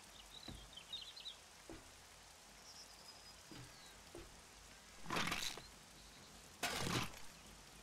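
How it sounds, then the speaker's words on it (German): Rain falling outside in the survival game 7 Days to Die, a soft steady patter with scattered drops and faint bird calls, broken by two louder bursts of noise near the end. "Draußen regnet's."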